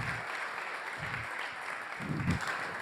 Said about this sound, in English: Everyone, big round of applause for Enes and Morgan.